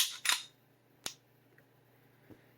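Crisp mechanical clicks from a Springfield XDM Elite OSP pistol: a quick double snap at the start, then a single sharp click, and a fainter one near the end, close up against a quiet background.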